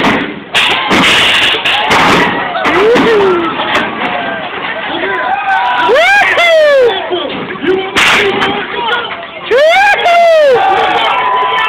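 A crowd at a bagged truck hopping show roars and cheers in bursts, mixed with heavy thuds and slams, while an announcer's amplified voice talks over the noise.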